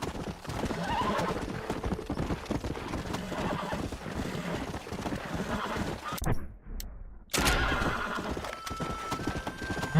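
Galloping horse hooves in Red Dead Redemption, a steady clip-clop rhythm with loud whinnies and game ambience, cutting briefly near silent before resuming.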